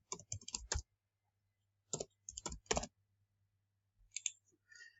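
Rapid bursts of typing on a computer keyboard, light plastic key clicks in three short clusters separated by pauses, close and fairly quiet in an otherwise silent room.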